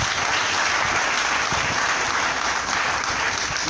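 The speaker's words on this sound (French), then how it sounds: "Je vais vous demander de l'applaudir très fort." Loud, steady applause from an audience at a political campaign launch event, a dense continuous wash of clapping that fills the whole moment with no speech over it.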